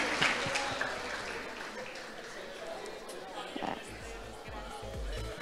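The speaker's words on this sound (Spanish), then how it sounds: "Que se siente el aplauso para este fajador." A crowd at an award ceremony applauds steadily in a dense, continuous wash of clapping, with murmuring and cheering from the audience mixed in for the whole stretch.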